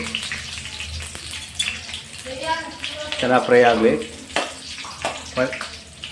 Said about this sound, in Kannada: ಕರಿಬೇವಿನ ಸೊಪ್ಪು ಹಾಕ್ತಾಯಿದ್ದೀವಿ. ಅದು ಚೆನ್ನಾಗಿ ಫ್ರೈ ಆಗಲಿ.